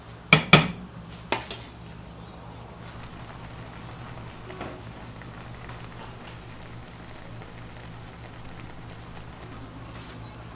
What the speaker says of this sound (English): of your beef broth and throw it in there. And we're going to deglaze the bottom.